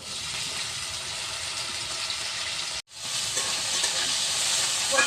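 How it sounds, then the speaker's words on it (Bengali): Pieces of taro go into hot oil tempered with mustard seeds and a dried red chilli, producing a loud, dense, continuous sizzle that breaks off for a moment and then surges back strongly, with no talk. "এই ফোড়নের মধ্যে আমি কচুটা দিয়ে দিচ্ছি"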